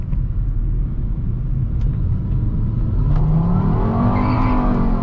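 Inside a Volvo S60 R, a steady low engine rumble fills the cabin throughout, rising into a building rev with climbing tones toward the end.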